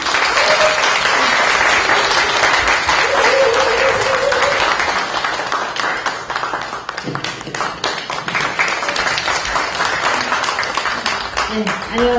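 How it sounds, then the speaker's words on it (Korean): Loud, sustained applause from an audience at a book concert, steady dense clapping filling the room as a professor is welcomed onto the stage, with some voices mixed in and a brief dip before it swells again. "큰 박수로 부탁드릴게요"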